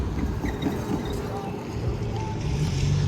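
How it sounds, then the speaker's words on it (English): A freight train rolls past close by, a loud, steady rumble with a rhythmic clatter of wheels running throughout. "There's the end of that train"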